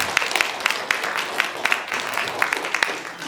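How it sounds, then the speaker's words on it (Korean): Audience at a local station-area residents' briefing gives applause welcoming a founding member, a steady spread of clapping with a few sharper claps standing out, with some voices mixed in. "박수로 환영해 주시기를 바랍니다"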